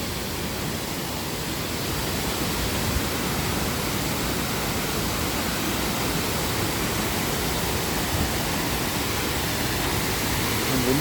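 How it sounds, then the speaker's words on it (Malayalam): The Ariyil waterfall in Kannur, a small cascade, sends out a steady, full rush of falling water, a dense, unbroken roar that holds constant throughout with no voices over it. "വലിയൊരു വെള്ളച്ചാട്ടമൊന്നുമല്ല,"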